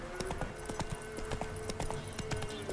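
Horse hooves clip-clop at a steady galloping rhythm in The Witcher video game, close and fairly quiet over a soft game ambience, with no talk.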